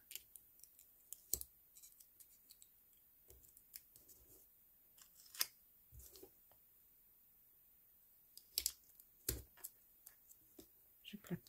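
Scissors snip through aluminium foil in short, close crisp cuts, scattered irregularly with a busier cluster of clicks toward the end over a quiet background.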